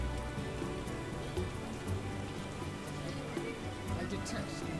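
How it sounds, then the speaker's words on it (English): Steady video game rainfall pattering on surfaces, a dense continuous hiss with scattered droplet ticks, moderately loud and without pauses. "This is serious rain."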